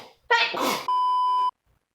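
A cartoon character in a Netflix show lets out a short, sharp sneeze, followed at once by a steady electronic beep lasting about half a second, then quiet.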